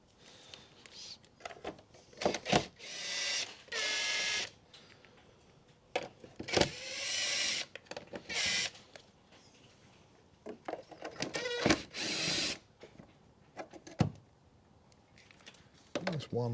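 Someone removes the 7mm bolts holding the plastic airbox lid on a 2010 Ford C-Max 1.8 diesel, with intermittent close ratcheting and whirring bursts from a tool, and separate clicks and knocks between them.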